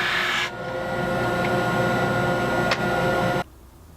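Drum sander working resawn wood pieces, a steady rasping, humming grind that holds for about three seconds before cutting off, no talking.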